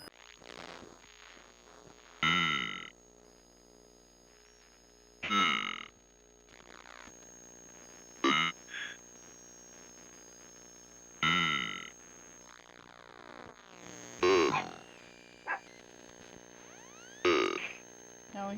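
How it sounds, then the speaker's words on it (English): A person burps loudly into a microphone about six times at irregular intervals, each deep, croaky belch standing out sharply over a quiet steady hum. "Why is he burping in my ear right now?"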